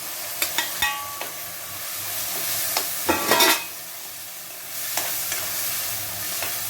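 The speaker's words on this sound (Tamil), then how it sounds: "நான் பெருசாக ரெண்டு தக்காளி வெட்டி வச்சுருக்கேன் அதையும் சேர்த்துக்கிறேன்" Chopped tomatoes frying with onions in a pan for a crab gravy, stirred with a spoon: a steady close sizzle under repeated scraping stir strokes, with a louder burst of scraping in the middle.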